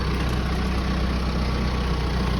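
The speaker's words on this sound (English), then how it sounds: "watch what Jake's going to do here with the tractor and the bucket" A tractor engine idling while pushing with its bucket: a steady, close, low rumbling drone held throughout, with no talking.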